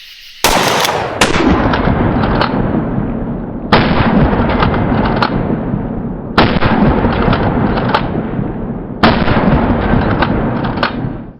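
A short-barreled Remington 870 shotgun fires at clay targets during a night skeet shoot outdoors: four loud, close blasts spaced a few seconds apart, each followed by a long rolling echo.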